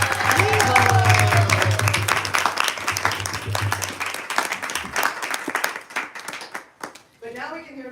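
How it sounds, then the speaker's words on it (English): Audience applause for the groom at a Tulasi and Saligram wedding ceremony, clapping mixed with voices, tones and crowd murmur, loud at first, then thinning into scattered claps and talk. "Can we have a round of applause for the groom?"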